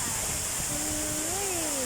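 Water pours at a man-made waterfall in Chiang Rai, a steady loud rushing hiss filling the scene, with a voice talking over it.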